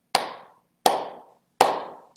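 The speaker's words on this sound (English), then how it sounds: "clap your hands 3 times" Three crisp, separate hand claps spaced evenly about three-quarters of a second apart, each sharp and close with a short decay, in an otherwise quiet room.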